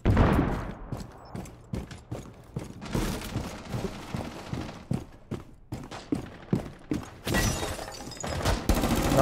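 Rapid bursts of gunfire in the tactical shooter game Rainbow Six Siege, sharp loud shots in irregular clusters and volleys across the whole stretch, with no talk over them.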